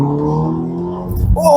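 Engine of a 2017 Mercedes-Benz SLC300 roadster with a 9-speed automatic, pulling hard under acceleration with a steady rising drone, then a brief deeper surge near the end as the revs climb.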